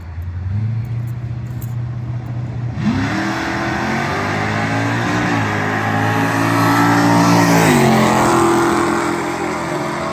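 Pontiac Trans Am drag racing car launching on nitrous, a loud, close engine roar that rises sharply in pitch through the run, with a brief gear change near the end and no talk.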